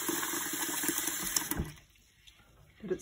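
A quick squirt of water splashes into a jar of tomato seeds, a short loud spray that cuts off into near quiet, followed by a faint trickle.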